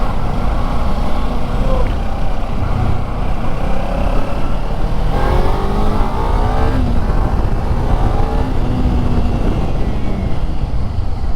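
A Kawasaki Ninja 300 motorcycle with a slightly heating engine rides through city streets, a loud steady engine drone with wind rush and a brief rising rev midway.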